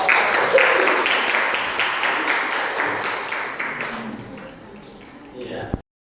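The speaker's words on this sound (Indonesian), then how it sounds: "Tepuk tangan untuk kelompok." Classroom clapping from students, a steady wash of small hands that gradually fades before a brief knock and sudden quiet.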